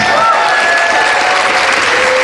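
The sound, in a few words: audience applause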